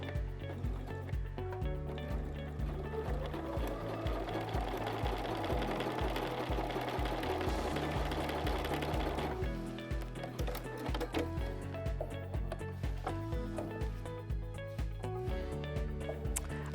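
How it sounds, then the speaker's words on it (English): A sewing machine top stitches close to the edge of the presser foot on a difficult fabric, running in quick rhythmic bursts of needle clatter with a short pause partway, close and clear with no talk. "let's just say I needed to top stitch this down"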